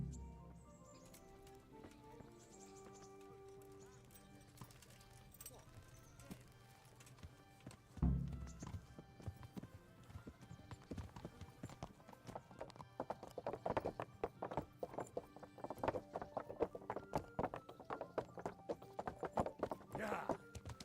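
Horse hooves clip-clop in a video game, starting after a quiet, music-like opening and then becoming a brisk, steady rhythm of close hoofbeats for the rest of the stretch, with speech-like sound at times.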